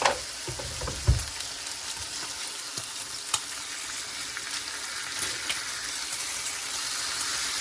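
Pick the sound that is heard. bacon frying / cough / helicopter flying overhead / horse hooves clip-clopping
bacon frying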